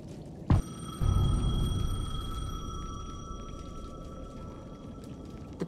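A payphone in the video game Alan Wake 2 gives a single sharp electronic ring that sustains and slowly fades against a low, dark ambient rumble.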